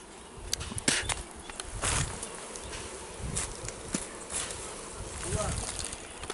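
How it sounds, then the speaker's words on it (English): Bees buzzing outdoors in Jamaica, a faint wavering drone with occasional louder passes close by, set against background noise and scattered sounds. "I see where the bees is."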